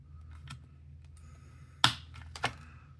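Automatic wire strippers cut through a scrap piece of wire, giving a few sharp snapping clicks, the loudest near the middle and another just after, against a quiet background hum.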